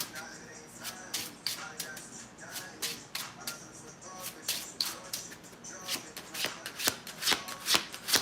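Slippery oracle cards are shuffled by hand at close range, a rhythmic series of crisp flicking riffles and soft slides repeating every fraction of a second, quiet and clear with no talking over them.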